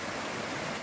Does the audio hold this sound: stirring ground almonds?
no